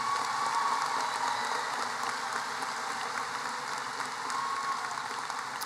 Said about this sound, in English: Please join me in applauding our summa cum laude recipients.